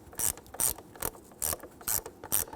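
A ratchet clicks in six quick bursts while snugging down the mass air flow sensor screws on a 2008-2017 Buick Enclave with the 3.6L V6, the bursts close and evenly spaced with no talking.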